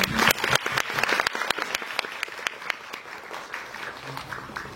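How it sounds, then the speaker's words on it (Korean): Audience applause after a film event talk honoring an actress, a dense burst of many hands clapping loudly at first, then thinning into scattered claps as it fades. "배우님을 위해서 박수 한번 다시."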